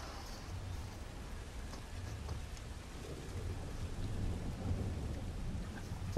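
A game storm of steady pouring rain with deep rolling thunder, a dense continuous roar that grows slightly louder toward the end, with no talking.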